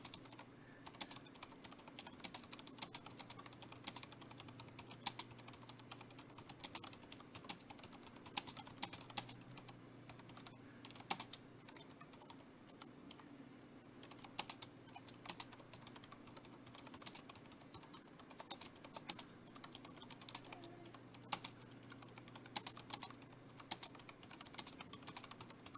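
Steady typing on a computer keyboard, soft continuous key clicks in an uneven rhythm over a low hum, close but quiet, with no talk.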